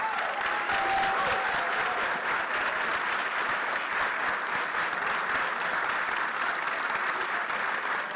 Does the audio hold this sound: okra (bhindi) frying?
no